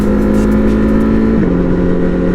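A motorcycle engine pulls hard on a night ride at bike night, a loud steady drone that drops in pitch partway through as the rider shifts, then keeps accelerating close by with no talk.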